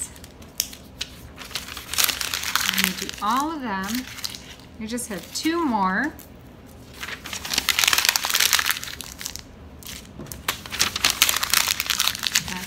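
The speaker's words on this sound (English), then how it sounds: "You've got to squeeze that in your hand." A paper bag is crumpled, squeezed and torn by hand during a paper bag puppet craft, giving bursts of crinkling and crunching at the start and end, with people talking and a high squeaky voice in between.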